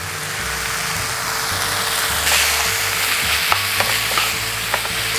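Shredded cabbage and carrot for spring roll filling sizzle and get stir-fried in a wok with sugar and oyster sauce. A steady frying hiss runs throughout, with scraping stirs and a few sharp clicks of the utensil.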